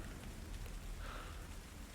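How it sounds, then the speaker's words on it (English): Steady rain hisses on a surface throughout, a dense continuous wash of drops with a low rumble underneath and no voices. "Rain doesn't really bother me."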